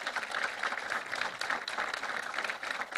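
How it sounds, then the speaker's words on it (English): At a medical school white coat ceremony, an audience applauds the teaching faculty with continuous, fairly dense clapping from a crowd, heard at moderate distance and steady throughout. "Let's give them a big round of applause, our teachers."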